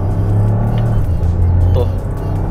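Toyota GR Yaris 2025 facelift engine drones steadily as a shift paddle is pulled, a loud low rumble with a brief rise in pitch, while someone talks over it inside the cabin.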